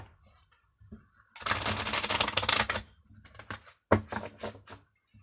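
Oracle cards are shuffled in dense rattling bursts, one long flurry of crisp papery slaps followed by a few shorter ones, close and fairly loud with quiet gaps between.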